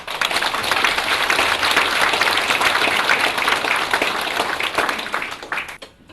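Warm, dense applause from the audience at a Korean election candidate's campaign office opening, loud and sustained before tapering off at the end.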